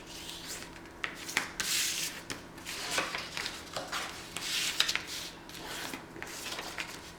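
Paper envelope fold being burnished by hand, giving a soft, close rubbing and scraping in uneven strokes that is quiet and continuous with no talking.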